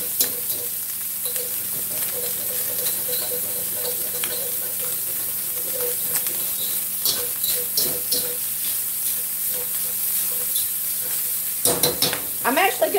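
Breakfast sausage browning in a pan, giving a continuous soft sizzle with occasional stirring scrapes and clinks, moderately near, without speech.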